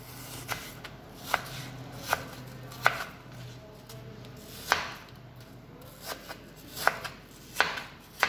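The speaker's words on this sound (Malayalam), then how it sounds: "അതിനുശേഷം ഇതുപോലെ അത് നീളത്തിൽ ഇതുപോലെ കട്ട് ചെയ്യുക." Knife chopping fruit lengthwise on a board for a salad, about a dozen crisp, uneven cuts spaced through a quiet background.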